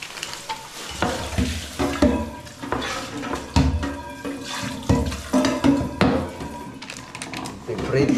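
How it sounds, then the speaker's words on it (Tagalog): Vegetables fry in a wok-style pan at home, giving a steady sizzle broken by stirring scrapes and pan clatter, with voices talking over it. "Prito tayo ng gulay."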